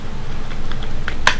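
A few quick, close clicks of a computer keyboard as code is typed, the last keystroke the sharpest.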